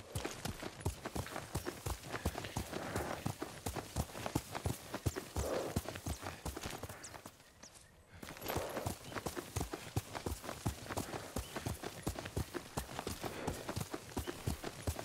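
A horse's hooves clop steadily in Ghost of Tsushima, a close, regular walking rhythm of sharp hoof strikes that pauses briefly midway before the same pace resumes and continues to the end.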